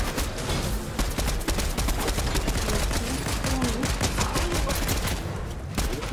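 Mythic gun in Fortnite firing continuously in a rapid, dense stream of loud shots throughout, with no talking.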